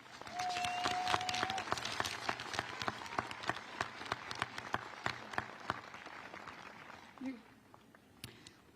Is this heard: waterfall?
no